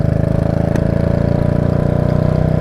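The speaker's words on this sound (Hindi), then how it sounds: "अभी बाइक चल रही है सेकंड गियर में, देखो जैसे ही हमारी स्पीड को मैंने बढ़ाया" A Bullet motorcycle ridden in gear, its engine thumping in a steady fast rhythm, loud and close throughout with a continuous throbbing drone and no voices.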